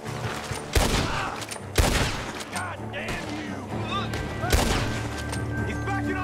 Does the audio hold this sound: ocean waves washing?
no